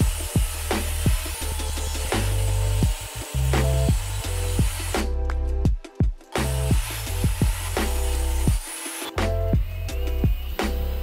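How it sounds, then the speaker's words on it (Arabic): Wooden strips are cut for a bookcase frame, with loud close rasping saw strokes repeating in bursts and two brief pauses, and no speech. "قطعت 4 شرايح خشب عشان اقدر اعمل بيهم الفريم."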